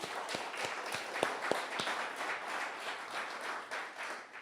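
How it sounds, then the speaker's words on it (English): An outdoor audience at a housing groundbreaking ceremony gives a round of applause, a few distinct early claps building into a steady patter of many hands that carries on evenly to the end. "let's give her another round of applause."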